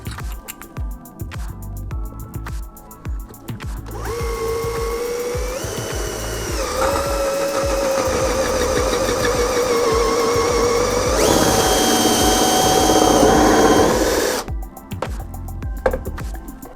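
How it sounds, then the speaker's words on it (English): A power drill with a 1-inch hole saw whines steadily through wood for about ten seconds, its pitch shifting as it bites, then cuts out. "so now I've got a hold of a 1-inch hole saw"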